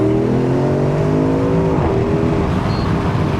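A Porsche Cayenne Turbo Coupe, a 550-horsepower SUV, pulls away from a stop with a loud, close engine note that climbs steadily through the revs and then eases into a broad whooshing roar.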